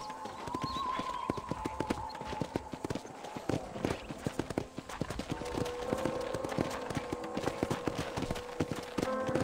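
Hooves clip-clop at a steady walking rhythm as a horse is ridden across a ranch in the video game Red Dead Redemption, moderately close over a low ambient bed of sound.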